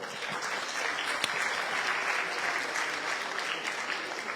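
An audience at a Guadeloupe regional award ceremony for high-school graduates breaks into loud, dense, sustained applause for a graduate, with no talk over it.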